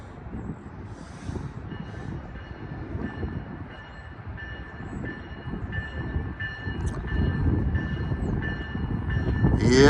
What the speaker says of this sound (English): Yes, it's a double-decker electric multiple unit.